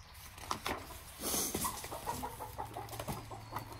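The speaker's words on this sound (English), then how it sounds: "chicken and cat interaction over there." Chicken clucking in short scattered calls near a cat, fairly close but quiet, over soft outdoor background patter.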